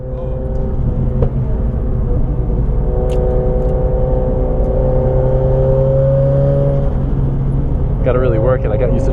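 Car with a Toyota JZ engine driving, its engine droning and rising through gears in a steady loud whir heard from inside, with brief speech near the end.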